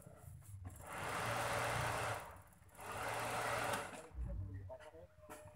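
A 1983 Daihatsu Charade's small engine is cranked and runs in rough, rattling bursts, surging for about a second at a time between short drops, heard up close.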